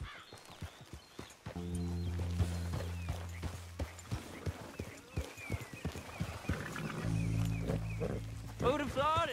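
Horse hooves clip-clop in Red Dead Redemption 2 as a horse is ridden, a rhythmic series of soft thuds under game dialogue, with low background music and a neigh near the end.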